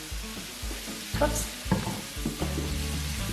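Bacon sizzles and crackles steadily in a hot pan, up close, with a few clattering stirs. Someone briefly speaks over it.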